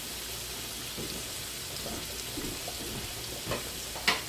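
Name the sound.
garlic browning and sizzling in butter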